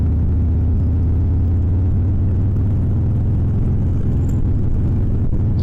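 Harley Sportster motorcycle engine running at 2400 RPM while cruising around 40 mph, a steady loud low rumble held throughout, with no talk over it.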